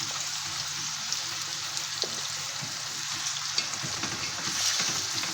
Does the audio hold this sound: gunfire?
no